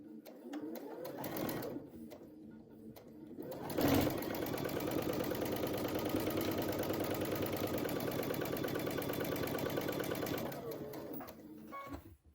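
A sewing machine chain piecing quilt fabric for a LeMoyne star quilt runs steadily up close, its fast rhythmic stitching sustained for several seconds after a brief start.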